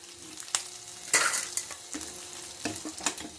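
Red chillies frying in a pan give a steady close sizzle, broken by several sharp scrapes and clinks of a stirring spoon against the metal.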